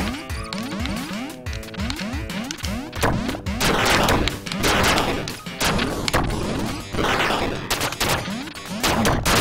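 Dense video-game gunfire, with rapid bursts of automatic shots, heavy impacts and crashes piling up continuously and loudly throughout, no pauses between volleys.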